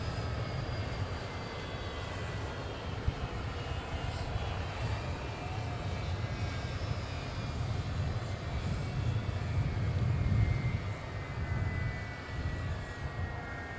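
Air Force One's jet engines roar loudly and steadily on arrival at Palm Beach, a broad continuous whine with no voices and no break.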